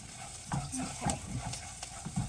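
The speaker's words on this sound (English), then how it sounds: "Ooh, it's sizzling nice." Lime zest and rice toasting in a pan give a quiet, soft sizzle, with faint stirring scrapes and light clicks scattered over a couple of seconds.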